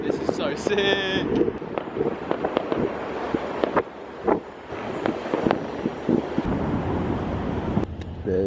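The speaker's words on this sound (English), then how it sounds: "360 fireworks show." Fireworks going off on bonfire night, with scattered pops and bursts across a windy outdoor scene, under buffeting wind noise and voices talking nearby.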